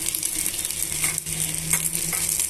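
Curry leaves, spices and garlic sizzle and crackle in hot oil in a pan, a steady close frying hiss with small pops throughout.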